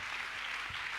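Church congregation at a night service clapping and cheering together, a steady dense wash of applause filling the room at moderate volume throughout the short moment.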